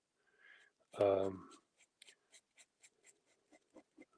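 A pen nib scratches across paper in short, regular strokes, faint and close, following a brief stretch of talking.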